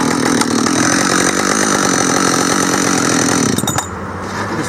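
A Husqvarna 572XP chainsaw fitted with C85 X-Cut chain roars steadily at full throttle while cutting into a pine log, then drops off sharply near the end as the cut finishes and the saw eases back.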